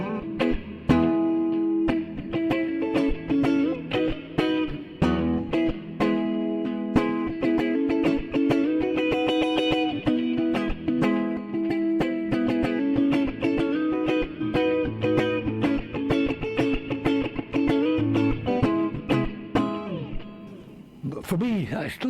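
Electric guitar played through an AmpliTube 5 MAX amp simulation with reverb, strummed chords and picked notes ringing on in a steady rhythm for about twenty seconds, with a washy reverb tail.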